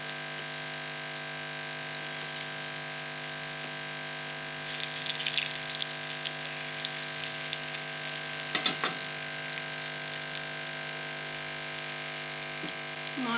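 Moong dal mangochiyan frying in a pan make a steady close sizzle of hot oil that runs the whole way through, with a slight rise midway and a few brief clinks, and no talking.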